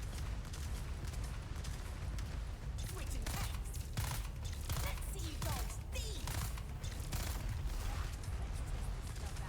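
Rifle fire in Dune Awakening shooting down a boss's homing missile: a rapid series of sharp shots in bursts, moderately loud over dense combat noise with some mechanical whirring.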